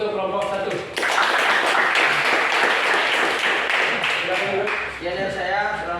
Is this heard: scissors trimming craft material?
no